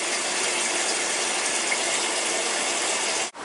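Kenmore washer filling with water during its fill cycle, a steady broadband rushing hiss of water pouring into the tub, loud and continuous, with a brief drop-out near the end.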